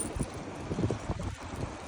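Strong wind in a rainy night storm buffets the microphone in gusty, rumbling bursts, broadband and fairly loud throughout, with no voices.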